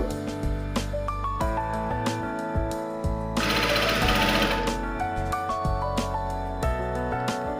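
A sewing machine stitches thread piping into folded cloth with a continuous close mechanical hum and a steady repeating needle rhythm, briefly rising into a louder, rougher burst midway.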